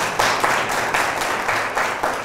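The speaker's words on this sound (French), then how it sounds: "des applaudissements encore pour ces professeurs et élèves" Audience applause following a school film screening about violence against girls, a steady broadband wash of many hands clapping at moderate level throughout, no talk over it.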